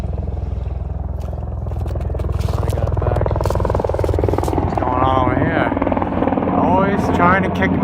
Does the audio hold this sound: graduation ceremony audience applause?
no